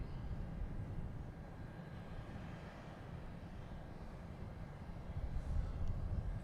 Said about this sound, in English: Here is the Delta A330-900 coming in from Amsterdam.